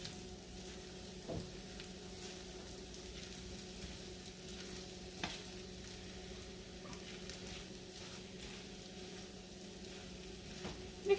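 Rice is folded into eggs and chunks of Spam frying in a pan, giving a soft, steady sizzle with occasional light scrapes and taps from stirring, quiet and without speech.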